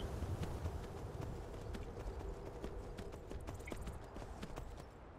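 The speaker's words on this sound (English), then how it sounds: "Yes, I have a fucking horse now." Horse hooves gallop in Skyrim, a rapid, steady run of soft clip-clop beats heard alone against a faint, noisy outdoor ambience.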